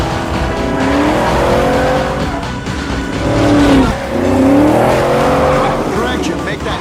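A gray 1967 Ford Mustang races along in a pursuit, its engine revving in repeated surges with tire squeal, loud and close, while voices talk over it.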